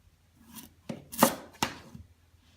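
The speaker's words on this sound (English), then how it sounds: "So you want to dice it up into about 1-inch cubes" A knife cuts through raw butternut squash on a cutting board in a few separate, crisp chops and scraping strokes, quiet and close with short pauses between cuts.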